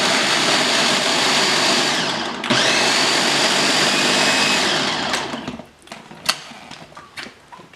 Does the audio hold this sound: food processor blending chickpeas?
yes